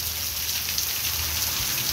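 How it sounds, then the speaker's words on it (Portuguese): Heavy rain pours down steadily in Amaniutuba, Ceará, as a dense, unbroken hiss, loud and close, with no voices over it. "começa a ventar agora, pessoal, olha, com isso tira um pouco da chuva e ela voltou novamente a ficar mais forte"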